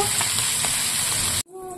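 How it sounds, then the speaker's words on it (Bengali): Fish frying in oil in a pan, a loud steady hissing sizzle heard up close that stops abruptly, leaving a quiet low hum. "তো তার জন্য আমি আগে মাছটাকে ভেজে নেবো"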